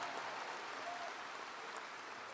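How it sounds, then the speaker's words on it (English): A large audience claps for a graduate at a 2022 university undergraduate commencement ceremony. The applause is a steady, distant wash of sound that fills the whole short stretch. "Give him a round of applause."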